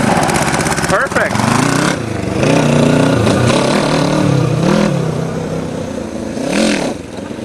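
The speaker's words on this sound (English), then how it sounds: "Every time you touch the gas, it spins its tires. It's so touchy." A motorcycle-powered go-kart engine revs hard in loud, sustained surges with shifting pitch, close by, as the throttle is blipped and the tires spin.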